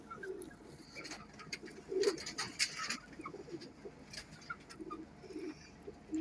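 Soft cooing from a Kasuri pigeon held up close, a few low murmured calls spread across the stretch, with faint bird chirps and scuffing in the background.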